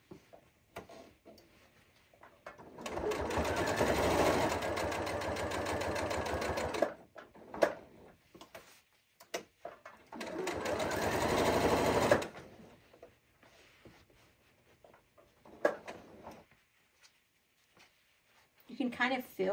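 A sewing machine stitches fabric for a bowl cozy in two sustained runs of rapid, even mechanical whirring, with short pauses and small clicks between them.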